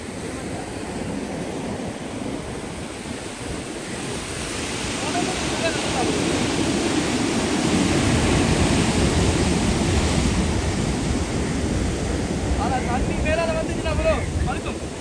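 Sea waves wash onto the shore at Kalmunai on the Batticaloa coast in a broad, steady surf hiss that swells louder midway, with wind buffeting the microphone and faint voices in the background.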